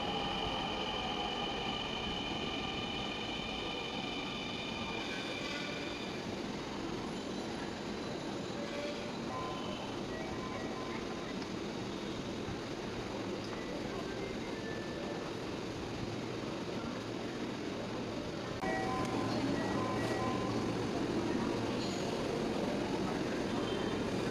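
Steady rumbling hum of a Dhaka metro rail train in motion, continuous and fairly loud, with the noise swelling a little near the end.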